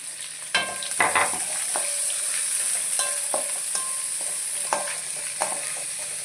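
Sliced onion and garlic fry in a pan for lemon rice, giving a steady, close sizzle broken by scattered clicks and scrapes of stirring, with no voices.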